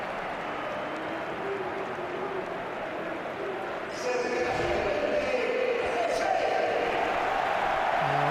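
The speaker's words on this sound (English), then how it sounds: "Just listen to the Bernabeu and the rich applause for" Crowd at the Bernabeu stadium during a Real Madrid vs Atletico Madrid Copa del Rey match, a broad steady roar that swells into louder applause halfway through, with commentary over it.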